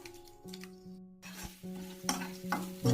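Crushed garlic and curry leaves frying in oil in a pan. A soft close sizzle runs under a few metallic clinks and scrapes of a spoon, and the stirring gets livelier toward the end.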